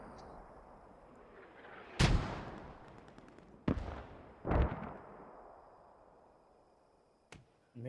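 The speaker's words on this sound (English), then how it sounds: "Oh, no, this mortar" Mortar fire in the video game Post Scriptum during a realism match, three sharp booming blasts in close succession with decaying rumbles, then a fainter thump near the end.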